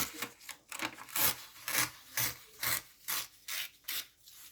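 Origami paper being torn by hand along a fold, a series of short, dry rasping rips repeating in an uneven rhythm, close and fairly quiet, with no voices.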